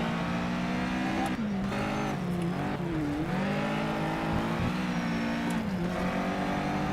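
A race car engine in Need for Speed Shift 2 Unleashed on PS3 revs hard and loud, climbing through the gears with sharp drops at each shift and brief tire squeal, steady with no talk.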